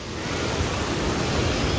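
Sea waves washing onto a beach at Dapoli, a steady broadband roar of surf with some wind noise, continuous and fairly close, with no voices.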